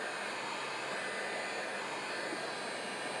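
A heat gun melting rollon hot glue on fabric for dry mounting blows a steady, even airy roar from start to finish, close and unbroken.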